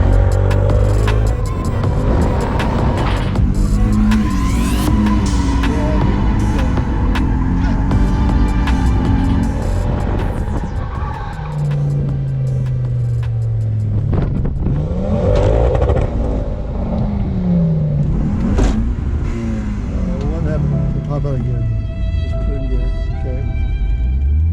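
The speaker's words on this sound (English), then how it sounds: "we could try clutch kick donuts" A car engine revs hard and repeatedly during clutch-kick donut attempts, loud close rising and falling whines with surging bursts, squealing tire tones and clattering, no talk.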